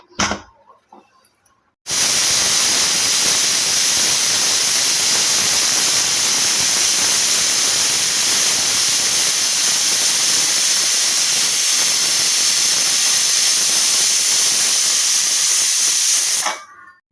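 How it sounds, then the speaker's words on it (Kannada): A pressure cooker cooking egg biryani lets off a loud, steady steam whistle. The sharp hiss starts suddenly after a quiet moment, holds unbroken for about fifteen seconds, then cuts off. "ನೋಡಿ ಫ್ರೆಂಡ್ಸ್, ವಿಷಲ್ ಆಗಿದೆ."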